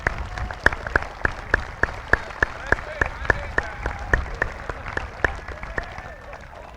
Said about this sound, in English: I'd like to give our teachers of that program a big round of applause and our students that made this podium